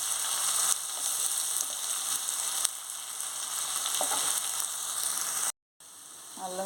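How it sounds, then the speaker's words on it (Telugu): Ginger garlic paste fries in a pan with a steady, dense sizzle, loud and close, running unbroken for several seconds before a brief cut and a quieter return. "అల్లం వెల్లుల్లి పేస్ట్ ఒక స్పూన్ వేసుకోవాలి. పచ్చివాసన పోయినంత వరకు వేయించుకోవాలి."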